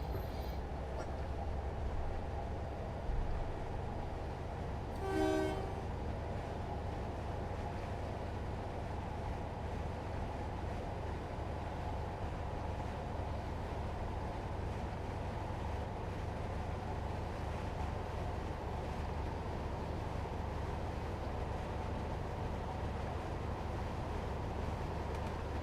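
A train in Train Simulator 2020 coasts along the Riviera Line toward Starcross, giving a steady low rumble and broadband rolling noise that holds even throughout, with one brief tonal squeal or horn-like sound near the start and no talking.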